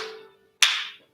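A single sharp hand clap rings out alone during a fitness routine, preceded by a fading earlier clap, crisp and close with a quick decay.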